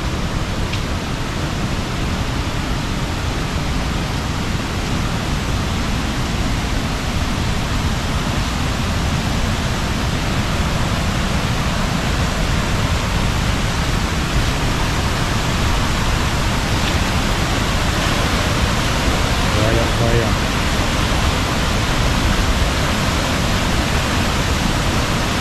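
A waterfall at Apuí in Amazonas roars as a steady, dense wash of falling water, loud and continuous throughout with no break.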